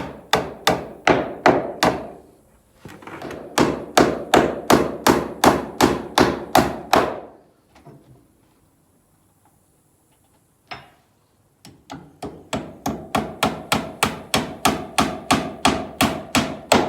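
Loud, steady hammer blows drive wooden battens into awkward little spots, landing in fast regular bursts of sharp thunks, with a pause of near silence and one isolated knock midway before the rhythmic pounding resumes.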